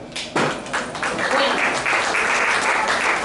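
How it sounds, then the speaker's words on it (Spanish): A crowd applauds a speaker at a spiritism anniversary event in El Salvador, the clapping starting suddenly and staying dense and even for a few seconds, with some voices mixed in. "Así que un fuerte aplauso."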